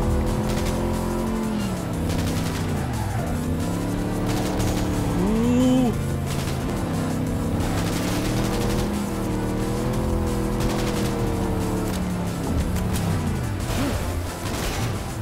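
A car in Cyberpunk 2077 revs and drives hard, with the engine tone rising and falling through shifts and a brief tire squeal midway, loud and close throughout.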